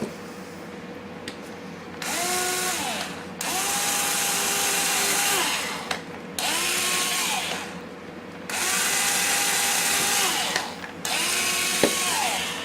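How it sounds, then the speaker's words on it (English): A small power drill with a 1/8 inch bit whirs in several separate bursts of a few seconds each, pitch sweeping up and down as it bites through a frame, with quiet pauses between. "And you'll see we're just drilling holes through there."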